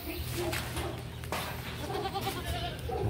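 Goats bleating amid steady outdoor noise, their calls rising now and then over a continuous low rumble.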